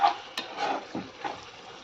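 Stirring in a pan of tomatoes with garam masala and a cup of curd gives a brief, close, moderately loud scrape with soft sizzling, a spoon knocking the pan once near the start.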